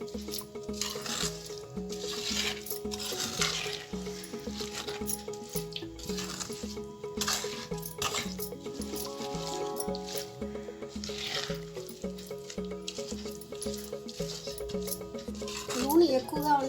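Steady stirring of roasted prawn pickle in oil with fenugreek powder and mustard seeds, soft wet squishing and scraping against the pan under background music.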